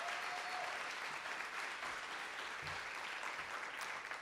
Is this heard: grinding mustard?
no